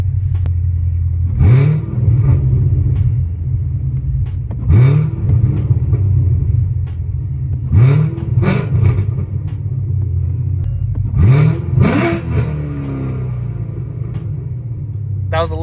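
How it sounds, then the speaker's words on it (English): A car engine fitted with Valvetronic mufflers, valves open, gives several short, sharp revs that rise and fall over a deep idle rumble, with someone talking between them. "I'll give you a little startup with the mufflers open."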